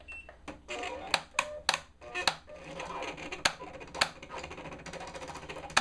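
An eCraft electronic cutting machine running a cut with its blade at pressure setting 6: a steady mechanical whir broken by sharp, irregular clicks and clacks as the carriage moves, fairly close and moderately loud, with no one talking.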